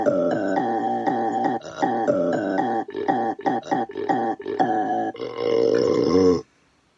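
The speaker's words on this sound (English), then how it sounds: "That was a baby shark burp." An Amazon Alexa speaker plays a baby shark burp sound effect, a long, loud, gurgling belch that wobbles in pitch and stutters midway before cutting off sharply.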